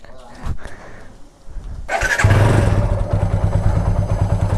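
A motorcycle engine starts after a few clunks and thumps, then settles into a loud, close, throbbing idle that runs steadily to the end, with brief talk near the start.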